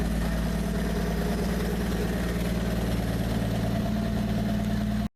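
A 1970 Camaro engine idles steadily with a blown-out exhaust, a loud continuous low rumble with a throaty, uneven pulse that runs unbroken and alone, then cuts off abruptly at the end.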